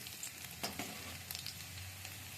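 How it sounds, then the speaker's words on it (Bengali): Chopped garlic fries in a thin layer of oil, making a faint, even sizzle with a few soft clicks and scrapes, quiet and continuous, with no voices. "কয়েক সেকেন্ড রসুনগুলোকে আমি ভেজে নিচ্ছি"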